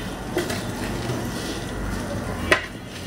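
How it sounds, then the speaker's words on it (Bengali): A large batch of rice for a pulao-style yellow rice dish being stirred in a pot, a continuous scraping, rustling churn with one sharp utensil clack. "নাড়তে অসুবিধা, অনেকটুকু চাল তো, অভ্যাসও নাই।"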